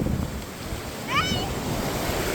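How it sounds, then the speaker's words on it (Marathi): Sea waves wash onto the beach at Alibag in a continuous, rushing roar mixed with wind buffeting the microphone, with a faint bird-like or voice-like chirp briefly rising above it. "भरपूरच लाटा येतात ह्या बघा"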